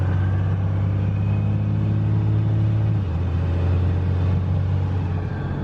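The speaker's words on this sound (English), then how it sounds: "I'll just accelerate to like 45." A car with a swapped 5.7 HEMI engine accelerates at about half throttle, giving a steady, loud low rumble heard from inside that shifts in pitch about halfway through, with no talking.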